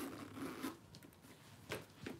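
A quiet zipper on a handbag's top closure being drawn open in a few short, scratchy pulls, close by and soft, with brief pauses between strokes.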